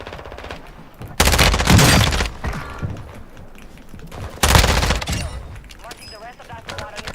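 Two loud, dense bursts of automatic gunfire in Warzone 2, each lasting about a second, ring out between quieter stretches of game ambience with faint chirps.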